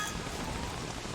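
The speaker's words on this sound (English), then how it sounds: "all this rain is causing us to lose sanity quite quickly" Rain falls in the survival game Don't Starve Together, a steady soft hiss of drops that holds evenly through a short stretch.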